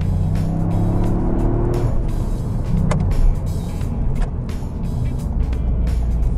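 A Toyota GR Yaris with a 1600 cc three-cylinder turbo engine runs nearby, a steady close engine drone with a brief falling tone early on and faint clicks and road noise.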